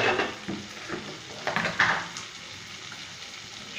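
Green chilli paste and chopped tomatoes stirred in a pan for an egg curry, with a soft sizzle under a few scraping spoon strokes that fade toward the end.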